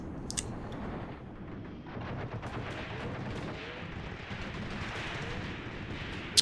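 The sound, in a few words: gunfire and rocket launchers in video game Graviteam Tactics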